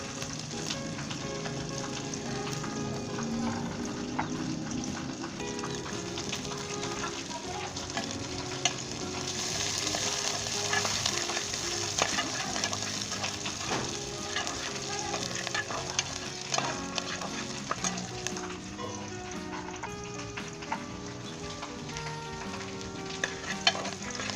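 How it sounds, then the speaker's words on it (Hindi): Chopped onions fry gently in ghee for a rice pilaf and sizzle softly throughout, with frequent scraping and stirring clicks close by. "जस्ट हाफ मिनट के लिए हमने इसे घी के अंदर हल्का सा इसका कच्चापन दूर करना है प्याज़ों का"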